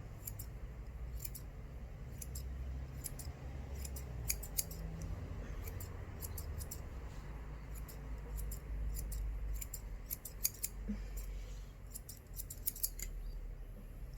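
Grooming scissors trim a dog's tail fur in a run of quick, crisp snips, close but quiet, over a low steady background hum.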